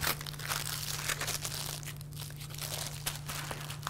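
Wax paper or foil crinkles steadily and close up as it is wrapped and twisted around a log of compound butter, with a constant low hum underneath.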